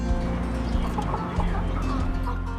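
Hens cluck and murmur continuously over a steady low hum, several birds close by with overlapping soft calls.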